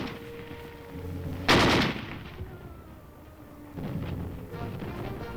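Gunfire from soldiers' weapons in Berlin, Germany: one loud, sharp blast stands out, followed later by a rougher stretch of rapid, fainter shots like a machine gun firing at a distance, with no talking.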